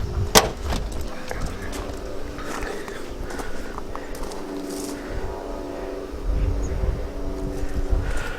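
A part of a Ford Anglia, a car kept in its original paint, is shut with one sharp clunk near the start. Quieter handling and rustling noises follow over light wind.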